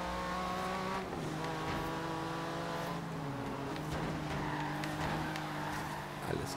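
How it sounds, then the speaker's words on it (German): A Jaguar XJ220 in Forza Horizon 3 slides sideways at high speed in fourth gear, its engine droning steadily while tires squeal through the drift, with someone talking over it. "Der Wagen geht quer, ne? Bei 240 km am vierten Gang."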